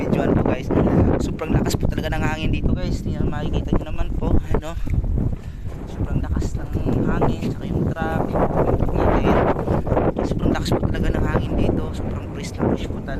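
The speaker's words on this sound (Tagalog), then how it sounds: "Sobrang lakas po talaga ng hangin dito guys." Strong wind buffets the microphone throughout, a constant low roar with gusty surges, while people talk over it.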